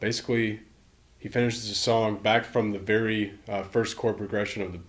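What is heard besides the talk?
No everyday noise stands out behind the speech.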